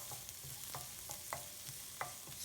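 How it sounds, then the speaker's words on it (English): Green seasoning of garlic, onion, shadow bene, celery and seasoning peppers frying in a pan for vegetable fried rice, a soft steady sizzle with a few light stirring scrapes, close and fairly quiet, no talking. "Green seasoning has garlic, onion, shadow bene, celery, seasoning peppers. So fry this a bit."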